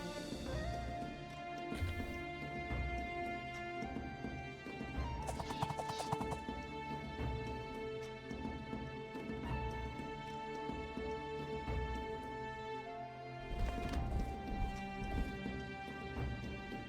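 Horses in the video game Sengoku Jidai: Shadow of the Shogun, with neighing and hoof sounds over steady rain and rumbling battle ambience, bursts of louder action around two moments, a sustained musical tone running underneath.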